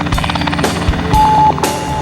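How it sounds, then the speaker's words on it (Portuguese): A helicopter serving an offshore pre-salt oil platform thrums loudly and close, its rotor chop pulsing steadily over a heavy, rumbling engine drone. "Para chegar e sair daqui, só de helicóptero."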